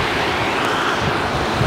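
The Hrazdan river rushing through the Hrazdan valley in Yerevan, Armenia, a dense, steady roar of flowing water with wind buffeting, loud and continuous without pause or voices.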